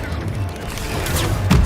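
In Hogwarts Legacy, a Protego shield spell is cast during a fight with spiders, producing dense, loud magical impacts and thuds that swell into a heavy burst at the end.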